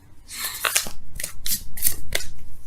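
Large tarot cards shuffled by hand in a series of quick, crisp riffling bursts, close and fairly loud, with short pauses between each flurry.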